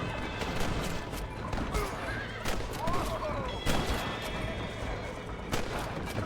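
A horse whinnies in the Western video game Red Dead Redemption, a neigh rising over busy game noise with sharp gunshot-like cracks and hoofbeats, while a player talks.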